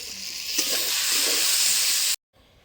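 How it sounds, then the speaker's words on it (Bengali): Greens (shak bhaja) fry in a pan with a steady, close, loud sizzling hiss that runs unbroken for about two seconds, then cuts off abruptly, with no voices. "তো দেখো ওইদিকে শাক ভাজাটা বসিয়ে দিয়েছি"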